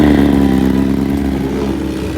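A motorcycle engine just after a cold start, idling loudly and close by with a steady low rumble that pulses slightly throughout.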